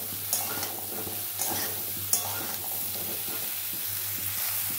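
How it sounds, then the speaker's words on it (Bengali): Kochu loti (taro stolons) frying in oil over a gas flame, a continuous close sizzle under steady stirring, with a few soft knocks of the spoon on the pan. "ওই তেলেই কচুরলতিটা দিয়ে এটা কিছুক্ষণ ভাজা করে নেব। গ্যাসটা বাড়িয়ে দেবো, দিয়ে এটাও একটু ভেজে নেব।"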